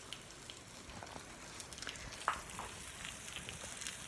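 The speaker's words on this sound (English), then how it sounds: "Anyhow, I have this steak that's cooking on this Himalayan pink" Steak sizzling on a heated Himalayan pink salt block set on a trivet, giving a faint, steady hiss with scattered soft pops and crackles throughout.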